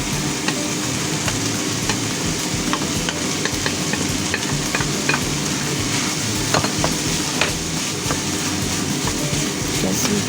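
Rice is stirred into a hot frying pan with seasonings and sugar, giving a dense, continuous sizzle with scraping, clinking stirring strokes close by.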